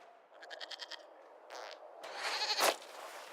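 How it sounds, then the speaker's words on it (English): In a medieval game, a goat gives a quick run of pulsed bleats, followed by soft rustling and a louder scuffling burst, all faint and distant over quiet background. "we discovered this man attacking the building with a goat"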